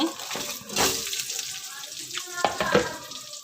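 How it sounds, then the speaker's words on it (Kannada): Onions and green chilies fry in oil in a pan, giving a steady close sizzle with scattered crackles, a few louder stirring scrapes, and some brief faint clatter near the end. "ಅದೇ ಬಾಣಲಿಗೆ ಎಣ್ಣೆ, ಈರುಳ್ಳಿ, ಮೆಣಸಿನ್ಕಾಯಿ ಹಾಕಿ ಹುರ್ಕೊತಾ ಇದ್ದೀನಿ"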